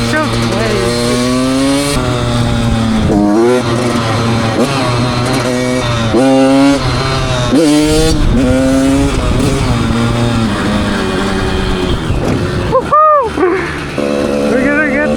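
A Yamaha YZ85 two-stroke dirt bike engine revs loud and close in repeated rising and falling bursts, with shifting pitch throughout and a sharp high rev spike near the end.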